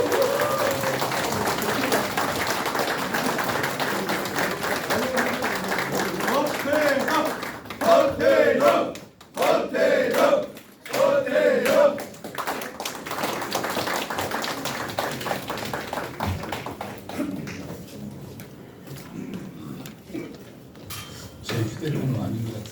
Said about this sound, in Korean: 뜨거운 환영의 박수 부탁드립니다.